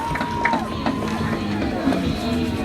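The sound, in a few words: football crowd cheering on the sideline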